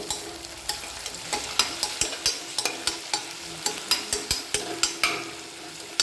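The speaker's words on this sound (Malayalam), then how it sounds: "കരിയാതെ ഇളക്കി ഫ്രൈ ചെയ്തെടുക്കാം." Sliced onion frying hard over a high flame with a pinch of salt, stirred constantly so it does not burn, for ghee rice: a steady loud sizzle cut by frequent sharp scrapes of the spoon against the pan.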